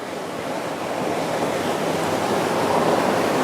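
Steady rushing wash of water and wind as a Sanlorenzo SL62 motor yacht cruises through waves at about 17 to 18 knots on a calm day, a continuous broadband roar that builds slightly, with no voices.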